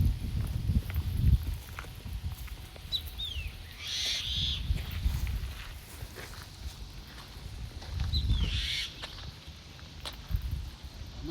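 Birds call at the Taxila ruins, where mynas and koels are present: a few short, faint calls rise now and then above footsteps and outdoor noise.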